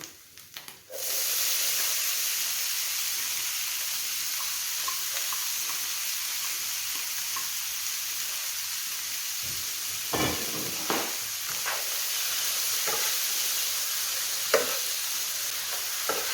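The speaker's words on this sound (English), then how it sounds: "I'm going to put the veggies in." Vegetables for a yabby curry sizzle loudly in a hot pan, giving a constant close hiss with a few scattered stirring scrapes and clicks.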